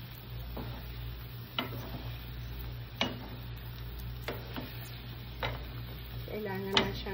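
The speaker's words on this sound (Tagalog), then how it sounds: "Gamit ako ng dalawang sandok para mas daling ihalo siya." Two ladles stir an eggplant mixture in a pan, giving soft scraping and scattered clinks over a low steady hum, with a faint sizzle underneath and quiet, close handling.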